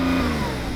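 A Porsche 911 Turbo S engine held at high revs in neutral, bouncing against the limiter in a loud, buzzy, sustained burst.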